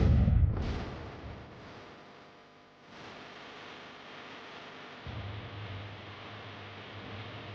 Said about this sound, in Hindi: वीडियो में आपको दिखाना चाहती हूँ, देखिए आपकी स्क्रीन पर कि किस तरह से यह हादसा हुआ, किस तरह से प्लेन आपस में क्रैश हुए।